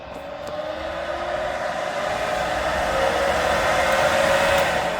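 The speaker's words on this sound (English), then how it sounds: "The fan. You'll hear this slowly start to spool, then it gets really loud." A classic Mini van's heater fan spools up: a loud, steady whine rising gradually in pitch and volume, a broad blowing roar with a faint tonal hum swelling toward the end.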